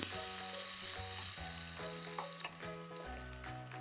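Finely chopped onions sautéing in oil in a pan, a steady close sizzle with repeated stirring scrapes, moderately loud and without speech.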